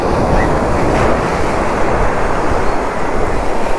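Sea waves crash and wash over people at the Kanyakumari shore, a loud continuous roaring rush of surf and spray with wind buffeting the microphone.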